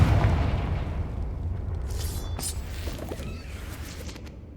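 A Confringo fire spell goes off in the Hogwarts Legacy video game, a loud booming blast at the start that rolls into a long rumbling tail, with faint magical crackles partway through.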